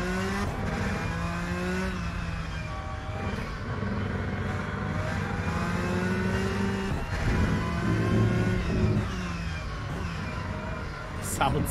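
Race car engine in the RENNSPORT racing game drones and revs steadily throughout, rising and falling in pitch through gear changes at moderate volume, with a voice talking faintly underneath.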